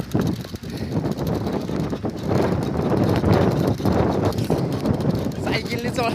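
Strong gusty wind roars loudly and continuously across the microphone while someone struggles to ride a bicycle against it on a darkening, stormy day.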